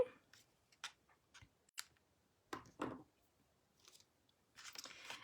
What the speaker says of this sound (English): And now we can trim the ends of our twine.